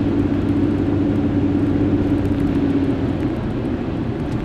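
Ford Explorer fitted with new Ford factory air shocks driving on the road, with a steady, loud low engine and road rumble from inside the cabin throughout.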